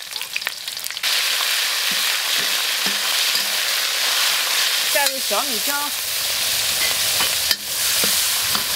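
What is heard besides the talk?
stir-frying ginger, chili and bean paste in wok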